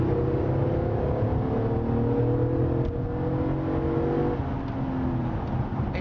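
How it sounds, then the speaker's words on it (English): A 2012 Chevrolet Impala LTZ with the 3.6 V6 makes a full-throttle kick-down run, its engine droning steadily and climbing in pitch under road and cabin noise, heard from inside the car without talk. "we're gonna do a full throttle kick down and then that'll be the last little acceleration clip"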